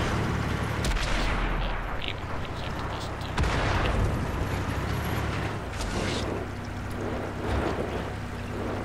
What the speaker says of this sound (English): Well, it's artillery.